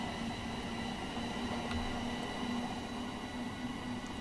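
Steady rolling rumble and hiss of a train running along the track on the East Coast Mainline in Train Simulator, continuous and even throughout without pauses.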